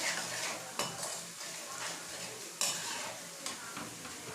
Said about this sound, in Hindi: बाकी सारे मसाले मैंने इसमें ऐड कर दिए। इसको मिक्स करते हैं।